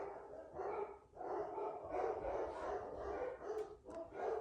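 Several dogs bark in fits and bursts somewhere nearby, the yaps rising and falling over a steady, noisy background for the whole stretch.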